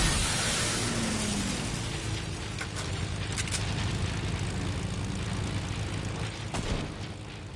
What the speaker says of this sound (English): below is his plane.